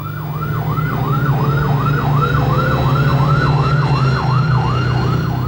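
Airport fire engine siren wailing in a fast, repeating up-down sweep over a low idling engine rumble, loud and close throughout.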